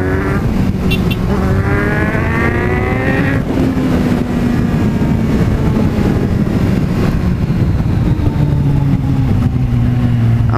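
A Kawasaki Z900 motorcycle pulling hard in second gear, its engine note rising in pitch through long sustained revs, loud and close, with continuous wind and road noise underneath.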